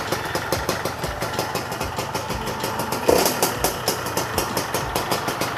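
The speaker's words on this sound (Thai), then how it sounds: "เครื่องดีฮะเครื่องเงียบยิบเลย เสียงท่อใส ๆ เลย" A motorcycle engine idles steadily with a rhythmic putter, close and fairly loud, with a brief rev midway.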